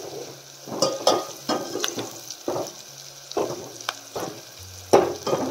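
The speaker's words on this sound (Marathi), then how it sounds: "मस्त असं परतून घ्यायचं बघा।" Peanuts with their skins on sizzle and fry in a pan while being stirred. Irregular scraping stirs and clinks come up close over a steady sizzle, with no voices.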